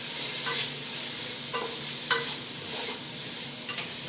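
Fried rice masala and pepper stirred in a pan for chicken fried rice, with steady close sizzling and repeated spoon scrapes every half second or so, no voices.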